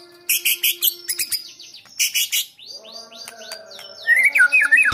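A white-rumped shama (murai batu) singing close by, a varied run of sharp, bright whistles, chirps and rapid trills delivered in quick bursts with short gaps, loud and clear with no talking.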